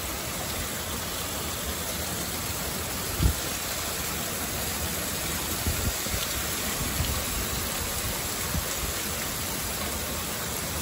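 Steady rain pours down outdoors in the United States, a dense even wash of falling water with a few soft knocks and splashes, continuous and fairly close with no talking.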